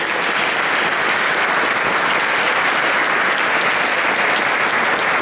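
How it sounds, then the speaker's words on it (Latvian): Sustained, dense applause from an audience in Riga's St. Peter's Church, greeting the Riga Technical College mixed choir Mīts. The clapping is loud and even, continuing unbroken throughout with no voices above it. "Aplaus viņiem!"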